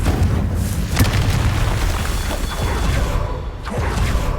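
Confringo fire spell explosions in Hogwarts Legacy on Xbox Series X: a sustained, loud, rumbling blast with crackling bursts and whooshing debris, surging again near the end.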